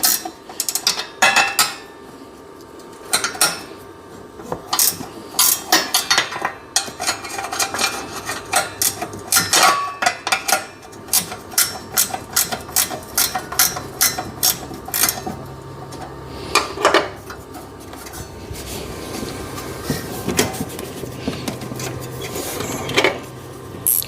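Bolts being loosened and backed out on a Husqvarna MZ6128 zero-turn mower, heard as a long run of sharp metallic ratchet clicks in quick bursts with brief pauses, close and fairly loud, no talking.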